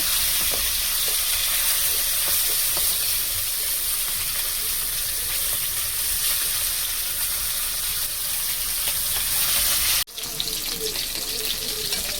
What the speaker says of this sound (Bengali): মাছটাকে ভালো করে ভেজে নেব।